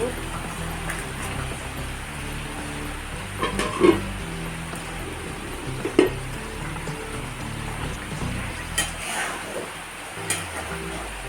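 Washed eggplant frying in a pan alongside bata fish curry with potato and tomato, a steady sizzle with stirring scrapes and a few sharp clinks of utensil against the pan, close by.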